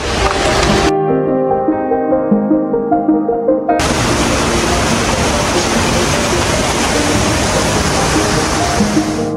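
A waterfall cascading down from Himalayan mountains on the trail toward Annapurna Base Camp, a loud, dense, unbroken roar of rushing water heard up close, briefly overlaid by a melodic tonal passage.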